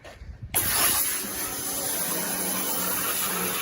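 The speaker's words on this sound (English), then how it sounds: "I just spray it down." A steady, forceful hiss of water spray starts abruptly after a brief quiet moment and continues at close range without letup, hosing down a trash bin.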